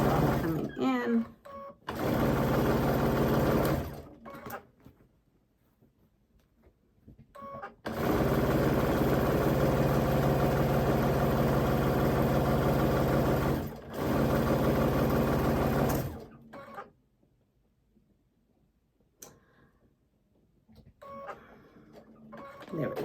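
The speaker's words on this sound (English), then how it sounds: "I just love how quick they sew." A sewing machine stitches hourglass quilt blocks in several fast, loud runs of steady mechanical whirring, each lasting a few seconds, with quiet pauses in between.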